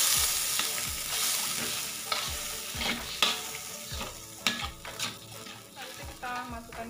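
Carrots cooking in coconut milk for fish pesmol are stirred in the pan, with a continuous close sizzle broken by repeated scraping and tapping strokes of the spoon, and no one talking.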